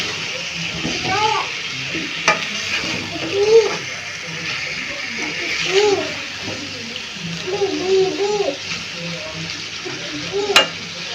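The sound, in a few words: pumpkin pieces added to fried spices, sizzling and stirring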